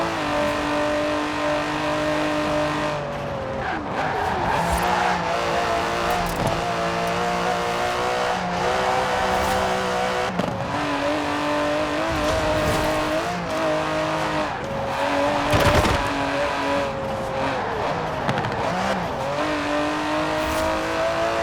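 Aston Martin DB11 in Forza Horizon 4, its engine droning and revving through repeated gear shifts and throttle lifts, with tires squealing and skidding at moments while driving along.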